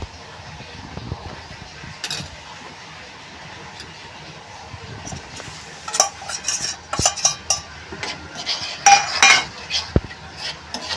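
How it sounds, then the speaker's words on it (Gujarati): Ground almonds sautéed in hot cow ghee for an almond sheera, a spoon scraping and stirring through the paste with soft clinks and light sizzle, growing busier and louder toward the end. "આપણે એને બદામને સાધારણ સાતળવાની છે"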